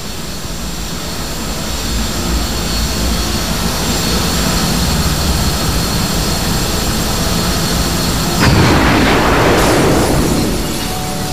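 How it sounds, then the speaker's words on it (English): A jet roars continuously through a scene in the Batman: Arkham Asylum video game, swelling louder with a rushing burst near the end as it passes close. "I want a jet like that."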